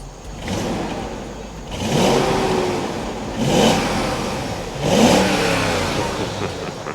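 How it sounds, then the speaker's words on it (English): A deep 4.6-litre V8 engine in a BMW X5 E53 4.6is revs three times in a row, each rise swelling and falling back to a rumbling idle, close by and loud. "although it is an older car, it has got a nice proper V8 note. Go on, give it a rev."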